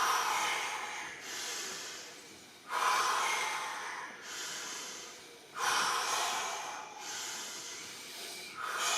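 Forceful rhythmic breaths during a dynamic Iceman breathing exercise in a yoga flow: about four long, loud rushes of air through the nose and mouth, each swelling and easing off in a steady cycle, close up, with no talking.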